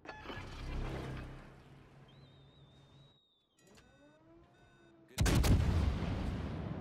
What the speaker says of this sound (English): there is a Murmansk who is lobbing shells over an island